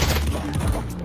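Gunfire in modded Skyrim VR, a quick cluster of muffled shots and thumps packed into about a second, fairly loud and close.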